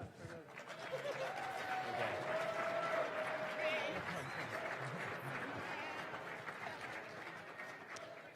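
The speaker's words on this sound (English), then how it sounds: "a round of applause." An audience at an arts awards reception claps in sustained applause for several seconds, with a few voices rising in the crowd.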